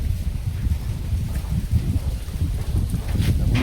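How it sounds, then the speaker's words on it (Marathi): Strong wind gusts buffet the microphone in a continuous low roar that swells and fades unevenly. "ह्या झाडाचा वारा खूप येता आमच्याकडे"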